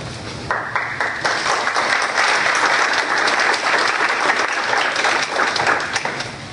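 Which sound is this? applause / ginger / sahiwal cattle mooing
applause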